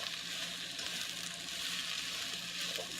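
Rainbow kale being stirred into a hot skillet, giving a steady, soft, close sizzle with faint stirring scrapes throughout and no talking.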